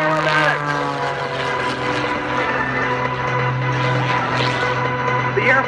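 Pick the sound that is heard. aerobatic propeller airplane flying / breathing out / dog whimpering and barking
aerobatic propeller airplane flying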